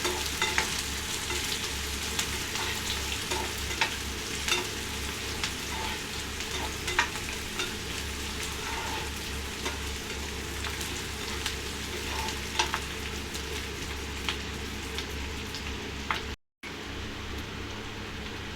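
Onions and green chillies fry in a pan with a dense, continuous sizzle and occasional stirring clicks, close up and unbroken until a brief dropout near the end, with no talking.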